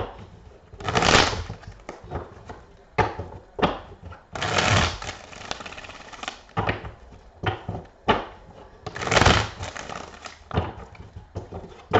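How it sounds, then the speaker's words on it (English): Playing cards being shuffled by hand in close bursts of riffling and rough handling, with quiet pauses between the bursts and a brief soft voice now and then. "Shuffle these."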